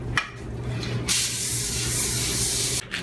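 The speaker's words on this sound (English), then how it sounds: "I put it in the sink, I rinse it out in the sink" Water sprays steadily into a kitchen sink as a turkey is rinsed. The hiss is loud and continuous from about a second in, with a low hum underneath and a brief splashy start.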